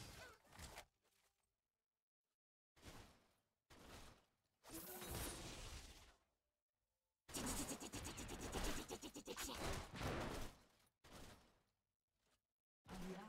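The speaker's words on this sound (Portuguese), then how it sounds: "Vamos começar logo o tiroteio." Gunfire bursts in a video game shootout, rattling in several separate loud volleys broken by short silences.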